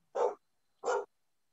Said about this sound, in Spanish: Ladridos es una manifestación de su energía.